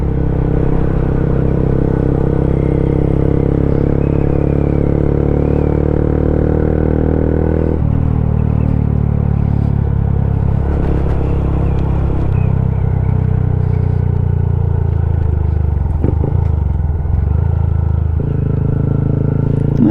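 A Honda Grom motorcycle runs continuously close by, its engine rumbling with shifting revs and brief blips as the rider rev-matches on downshifts, under steady wind noise.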